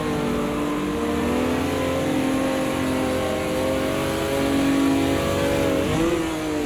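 A V8 race car engine in a sim racing game drones and revs at steady high pitch, a continuous loud engine note with a slight pitch drop near the end and no talk.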